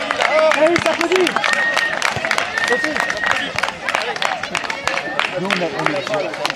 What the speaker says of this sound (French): Allez, ça applaudit.